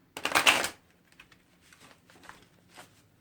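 A quick burst of tarot card shuffling up close, a riffling flutter lasting under a second, followed by faint soft shuffling and handling noises.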